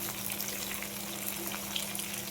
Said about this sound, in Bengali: দেখো ভালো করে কষিয়ে নিচ্ছি